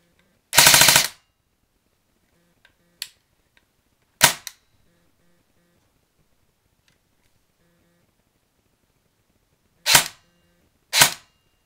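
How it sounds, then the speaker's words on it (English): A custom airsoft M4 carbine fires in a quiet room. A short loud burst is followed by several isolated sharp snaps and a final pair of cracks, each separated by silence. "you need more ammo, especially when your gun shoots like"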